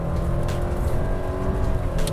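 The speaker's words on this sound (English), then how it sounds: "I'm putting the car into S mode, and I'm just gonna launch it" A 2021 Subaru XV 2.0i-S with a CVT in S mode launches hard in the rain. Its engine note holds a steady, loud drone throughout the acceleration, with no talking.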